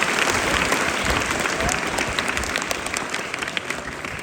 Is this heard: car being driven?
no